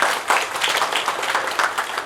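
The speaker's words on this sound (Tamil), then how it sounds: "அவங்களுக்காக ஒரு பெரிய கைத்தட்டல் நீங்க கொடுக்கலாம்" Audience applause at an award function in Gudalur, a dense steady clapping from a crowd that stays loud and even throughout, with no talk over it.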